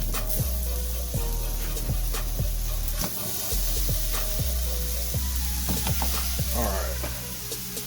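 Onions sizzle in butter in a skillet during Zuppa Toscana prep, a steady close frying hiss broken by sharp stirring scrapes about once a second, with no talking.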